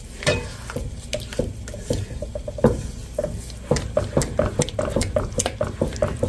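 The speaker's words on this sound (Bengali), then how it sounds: "এভাবে অনবরত নাড়তে হবে, না নিচে ধরে যাবে।" Milk for chhena sandesh is stirred continuously in a pan over low-medium heat, giving close, repeated scraping and sloshing strokes in an uneven rhythm over a soft bubbling background.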